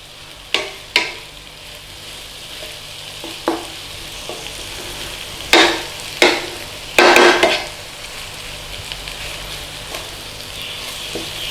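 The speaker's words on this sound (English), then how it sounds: "And all we're doing is cooking that rawness off those eggs" Scrambled eggs fry and sizzle in a pan over a steady hiss, broken by several bursts of scraping as a utensil stirs and folds them, close up with no talk.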